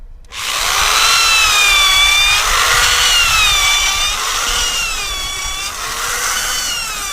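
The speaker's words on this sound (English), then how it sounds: "this drill is in operation, actually burrowing down in this 2x4" A power drill whines loudly and steadily up close, its pitch wavering as the bit bores into a 2x4 piece of wood, with no voices.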